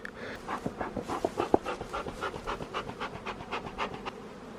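Honey bees buzz steadily at an apiary hive while Carniolan-style colonies are inspected, with a continuous close hum broken by repeated pulsing swells.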